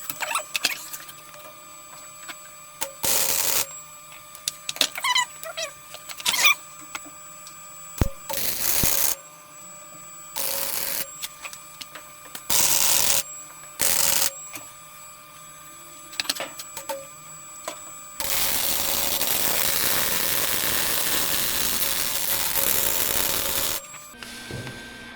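Short bursts of tack welding on aluminum ducting fitted to a modified oil cooler, crackling buzzes separated by quiet gaps, then one longer sustained weld hiss near the end, with no speech.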